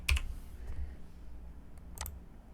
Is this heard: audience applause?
no